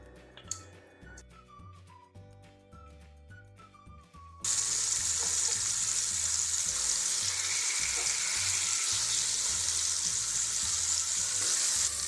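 Beef liver with carrots and onions frying in a pot, a loud steady sizzle that starts abruptly partway through after a quieter stretch of stirring and clinking, with a faint background tone underneath.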